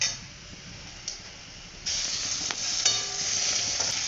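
Onions frying in a pan for a mushroom curry, a steady hissing sizzle that jumps louder partway through as more goes in, with a few light stirring clicks.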